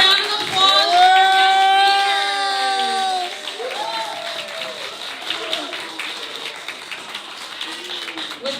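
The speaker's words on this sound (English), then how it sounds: "Let's give a round of applause for our" Applause from an audience at a Friday Veterans Day gathering, starting after a few seconds of a loud speaking voice and continuing as a steady wash of clapping with some voices mixed in.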